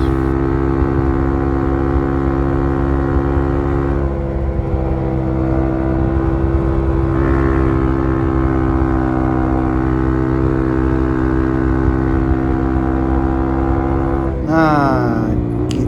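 A trail motorcycle rides at speed on a road in Aceh, its engine a loud, steady drone held at constant revs that shift and rise briefly near the end.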